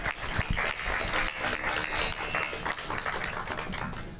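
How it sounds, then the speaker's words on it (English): Applause for Shannon's presentation at a First Generation Celebration Day event, a moderately loud, steady round of clapping from a gathered audience that continues evenly throughout without voices. "let's give another round of applause to Shannon for that awesome presentation"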